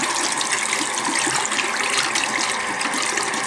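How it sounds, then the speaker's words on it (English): Continuous gushing, wet water noise, loud and steady throughout, as water is squeezed out of packed-down shisha tobacco and splashes down. "If we pack it down, we can squeeze out most of the bad water."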